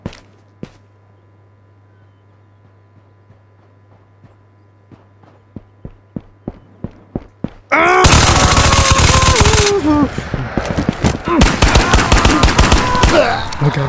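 Gunfire in the video game Ghost of Tabor: a run of sharp single shots speeding up, then a sudden loud, dense burst of rapid automatic fire with heavy clatter and noise.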